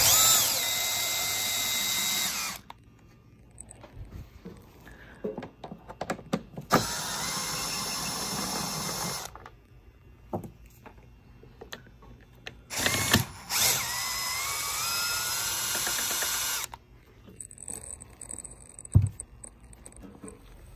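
Power tool backing out T30 screws from the rear bumper insulator of a 2019 Jeep Cherokee Trailhawk, several close, loud whirring bursts of a few seconds each, separated by quiet pauses and a brief clatter.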